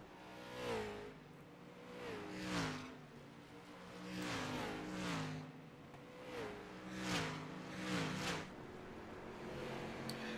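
Street stock race cars circling Langley Speedway in a sim racing game, engines rising and falling in pitch as several cars pass close by, with repeated rev swells every couple of seconds.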